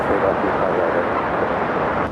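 A heavy Air Canada airliner takes off at LAX, heard as a loud, steady, low engine roar that stays constant for about two seconds, with a faint voice on top.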